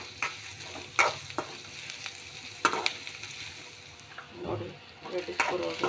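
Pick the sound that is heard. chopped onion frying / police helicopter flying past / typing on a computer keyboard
chopped onion frying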